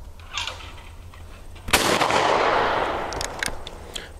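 A single loud shotgun blast fired at a thrown clay target outdoors near a tree, a sharp crack that decays into a long rolling echo, with faint background noise before it.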